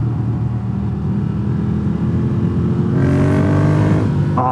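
Ducati Desert Sled 803 cc air-cooled V-twin motorcycle engine running steadily and loud up close, its drone rising into a stronger rev toward the end, with no voices.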